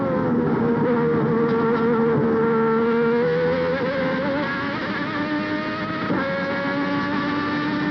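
Derek Warwick's Formula One V12 car at Hockenheim, 1990 German Grand Prix, onboard at about 13,500 rpm, a loud unbroken high-pitched wail with slight pitch dips on lifts, steady throughout.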